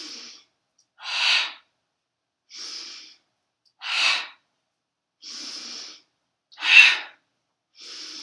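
Slow yoga breathing alternates deep inhales and exhales, seven airy breaths spaced evenly with silent pauses between them, close and clear, with no speech.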